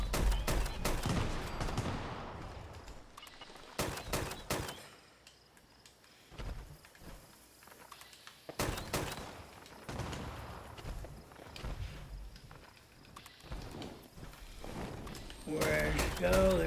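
Weapon fire in Fallout 76 comes in several loud bursts of rapid gunshots, separated by quieter gaps with footsteps and game sounds.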